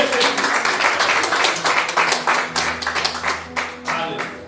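Church congregation applauding during a Portuguese-language worship service, a steady wash of many hands clapping with a few sharper claps standing out, loud and continuous before gradually thinning toward the end.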